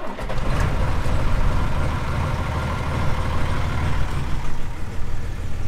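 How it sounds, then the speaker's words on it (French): An old tractor engine on a farm turns over and catches, then runs as a loud, steady diesel rumble with slight surges, close by and with no talk over it. "Il démarre au quart de tour tout le temps, ce tracteur."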